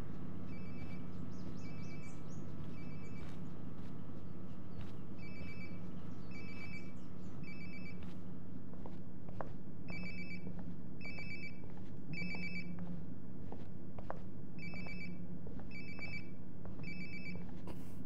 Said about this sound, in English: Come on, where's my phone?